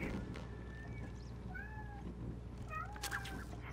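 A cat meows several times in short rising and falling calls, close and fairly quiet, over a low steady background hum.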